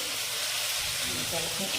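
A plain oil tempering (vaghar) sizzles after raw potatoes are added, a steady, close frying hiss that continues throughout while someone speaks over it.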